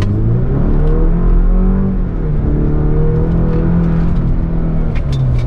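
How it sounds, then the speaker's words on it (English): A 2024 GMC Canyon Denali pickup's four-cylinder engine with a regular automatic transmission revs loudly and steadily, a deep rumbling drone that rises and falls in pitch over several seconds, close and alone without talk. "it's definitely not the worst sounding four cylinder on the market"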